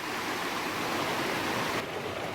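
Steady broadband rush of a fast, swollen mountain stream, the Middle Prong West Fork Pigeon River in Pisgah National Forest, North Carolina, heard close and loud at a trail crossing with no voices.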